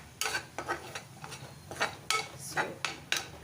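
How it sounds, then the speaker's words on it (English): Minced meat with turmeric and garam masala stirred in a pan, heard as about eight rhythmic scraping strokes of a spoon against the metal over a faint, low sizzle. "And stir this all very well"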